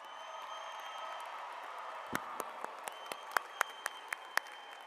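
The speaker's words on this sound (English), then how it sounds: "I don't think I heard enough applause" Scattered, faint handclaps from a convocation audience start midway, about nine distinct claps at an uneven pace over a low, steady room hum.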